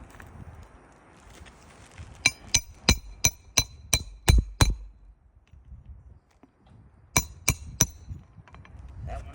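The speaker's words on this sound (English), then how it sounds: "I'll put the last nail in on this side." A hammer drives nails during a repair: eight sharp, evenly spaced ringing blows, then a pause, then three more quick strikes, close and loud against a quiet background.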